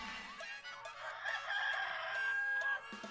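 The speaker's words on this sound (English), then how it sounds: "she's chasing down chickens on the family farm" A rooster crows on a family farm, one drawn-out, rising and falling call at moderate distance, with faint clucking and farmyard noise around it.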